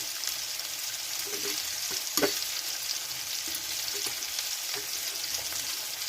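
Ginger-garlic paste frying with salt in a pan, a soft continuous sizzle broken by a few faint utensil clicks and scrapes, with no talking.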